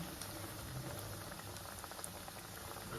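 Dahi kebab tikkis fry in hot oil over a gas flame, a soft, dense, steady sizzle and bubbling heard up close, quiet and without voices.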